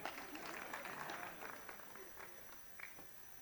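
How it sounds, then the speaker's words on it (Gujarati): An audience at an Arangetram dance performance claps, a fairly quiet patter of applause that gradually thins into scattered claps, with some voices in the room. "તાળી પાડો પહેલા"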